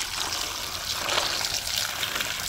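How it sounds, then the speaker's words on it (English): Fresh water running into a bowl to refill it for washing cucumbers and June plums, a steady close trickling stream throughout, without talk. "we're gonna go right ahead now and fill it up back again with some fresh water."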